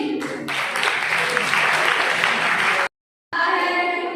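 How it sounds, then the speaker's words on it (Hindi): Loud, dense applause from a college audience at a poetry event, a sustained roar of many clapping hands that cuts out abruptly to silence for a moment, then resumes just as strongly. "जोरदार तालियां बजा दीजिए।"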